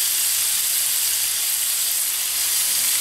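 Dried grated potatoes fry in clarified butter for hash browns, giving a steady, even sizzle and hiss that stays loud and close throughout, with no talk.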